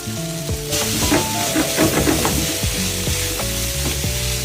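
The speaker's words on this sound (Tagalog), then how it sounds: "Ilalagay na natin yung white onion." White onion hits hot oil in a pan and sizzles loudly and steadily throughout, crackling and popping up close while soft background music plays along.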